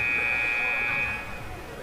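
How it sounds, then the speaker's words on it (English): An ice hockey arena buzzer ends a period in a junior varsity game, a loud, steady tone sounding for about a second over crowd murmur, then cutting off and leaving the arena noise. "Buzzer sounds."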